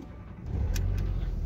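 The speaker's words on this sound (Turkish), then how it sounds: "Evet arkadaşlar benzin sesi bakın." Seat Cordoba petrol engine turning over and settling into a steady low idle, a loud close rumble that rises after half a second and holds evenly, with a couple of faint metallic clicks.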